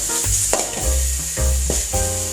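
Soya chunks fry in a pan for a Mangalore-style sukka with loud sizzling and repeated stirring scrapes. Spatula knocks and pan clatters come in uneven bursts, close and prominent.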